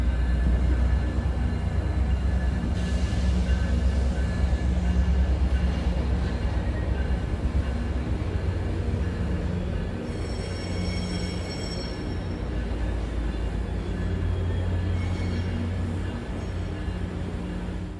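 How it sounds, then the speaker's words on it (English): A Metrolink train departs LA Union Station with an EMD F59PH diesel locomotive leading and a cab car on the rear, producing a continuous low rumbling drone with faint higher squeals and hisses drifting in over eighteen seconds. "First up is the departing Metrolink train with an EMD F59PH leading the way and cab car 677 on the rear."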